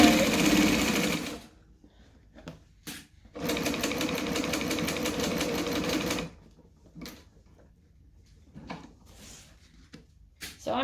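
A domestic sewing machine back stitching along a bag lining runs in two close, steady bursts of rapid needle chatter, separated by brief handling clicks and quiet pauses.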